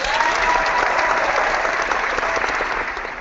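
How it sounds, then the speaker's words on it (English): Audience applause in honor of Johnny Cash: a dense, steady wash of many hands clapping at once, loud and sustained throughout, then tapering slightly near the end, with no voices over it. "let's give a round of applause to Johnny Cash"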